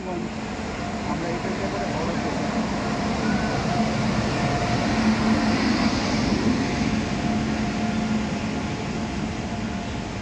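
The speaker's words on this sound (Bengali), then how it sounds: "এই হচ্ছে ট্রেন। আমরা এই ট্রেনে করে আসলাম" A train stands at a near-empty railway station at night, giving a steady, dense rumble and hum that holds evenly throughout, close and fairly loud, with no voices standing out.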